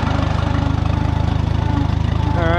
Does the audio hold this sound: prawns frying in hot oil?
no